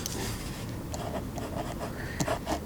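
Pen or marker scratches steadily across paper or a board while a math homework problem is worked out, a soft continuous rubbing and tapping close by over a constant background hum.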